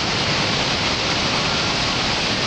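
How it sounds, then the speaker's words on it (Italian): Heavy spray and rushing water at Victoria Falls, Zambia: a loud, unbroken hiss of falling rain and mist mixed with the roar of the cascades, steady and close throughout. "Piove."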